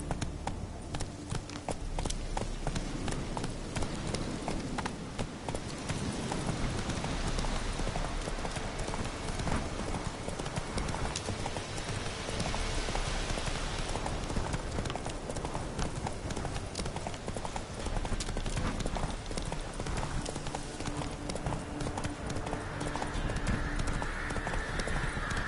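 Galloping from Roach, The Witcher 3's horse, runs continuously for the whole span as dense, close hoofbeats beneath loud game music and ambience, with a faint whinny.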